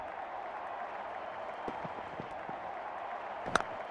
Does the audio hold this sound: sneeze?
no